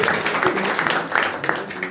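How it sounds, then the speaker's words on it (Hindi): Audience applause at a youth meeting, a dense patter of many hands clapping at moderate loudness, mixed with voices from the crowd. "जो जॉब को लेकर के एक मकसद के साथ चल रहे लोग के लिए भी ताली बजा"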